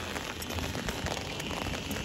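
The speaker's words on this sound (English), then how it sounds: "Stuck in this rain." Rain falls steadily outdoors as a dense, even hiss of drops spattering on surfaces, with no voices.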